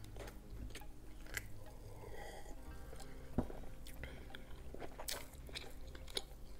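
Someone eats teriyaki pork ribs close to the microphone, with soft irregular bites, wet chewing and occasional sharper crunchy snaps over a quiet background.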